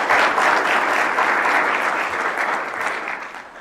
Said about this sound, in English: If you guys wanted to give them a round of applause.